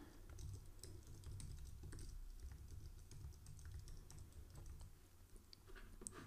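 Quiet keystrokes on a computer keyboard tap out an email address, light irregular clicks scattered over a low hum of room noise, no voices present.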